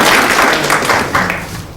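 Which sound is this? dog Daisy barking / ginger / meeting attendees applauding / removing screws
meeting attendees applauding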